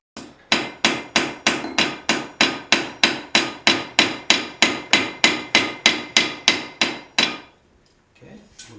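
Steady, ringing hammer blows on hot iron while forging an iron rose, about twenty evenly spaced strikes at close range, then a stop and quiet shuffling.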